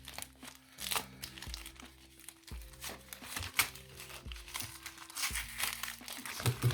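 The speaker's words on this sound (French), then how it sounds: "On va essayer de ne pas déchirer l'enveloppe." A paper envelope is opened carefully, with soft, close crinkling and light paper rustles coming in short bursts, quiet and without talk.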